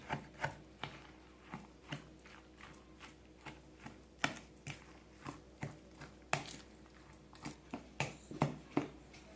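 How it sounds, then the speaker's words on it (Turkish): Zucchini and potato fritter batter mixed by hand in a bowl with salt and black pepper, heard as a steady series of soft, close taps and clicks of a utensil against the bowl, repeating at an uneven rhythm with no talking. "Şimdi karıştırıyoruz."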